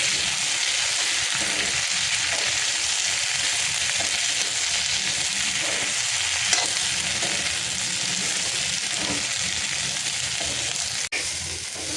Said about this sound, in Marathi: गवार मस्त कलर त्याचा चेंज होईपर्यंत भाजून घेऊया चांगल्यापैकी